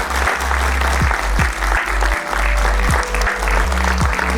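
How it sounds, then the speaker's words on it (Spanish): Congregation applauding during a Spanish-language church service: steady, full crowd clapping sustained throughout over a low, droning musical backdrop, fairly loud and close. "Denle un fuerte aplauso a Dios por eso."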